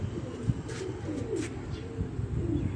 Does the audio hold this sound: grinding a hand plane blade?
no